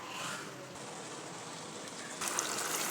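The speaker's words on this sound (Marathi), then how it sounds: "भाजीला लागेल तितकं पाणी टाकायचं" Water poured into a pan of sprouted moong bean curry, a soft steady trickle and splash that grows slightly brighter and louder near the end.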